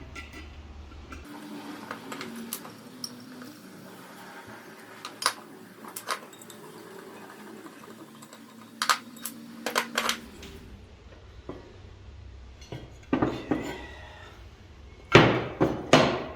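Metal Fiamma awning brackets being handled on a 2018 MAN TGE van, with scattered close clinks, knocks and taps against quieter stretches, and a cluster of louder metallic clanks at the end.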